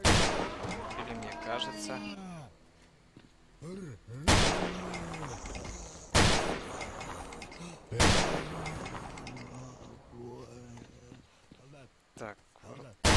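Shotgun blasts in the S.T.A.L.K.E.R. game boom out as four loud, sharp shots spaced about two seconds apart, each with a ringing tail, while someone speaks in between.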